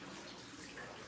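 Water runs steadily over a car windshield for about a second, a continuous broadband wash like a hose or tap rinse, fairly close and alone.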